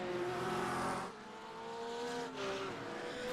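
Race cars in a GT sprint sim racing video game, a Porsche and a McLaren, their engines revving and shifting up and down through the gears, loud and continuous with no talk over them.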